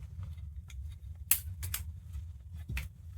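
Taped socket wire inside a DVD drive snipped with a cutter, giving a few sharp, close clicks over a low steady hum.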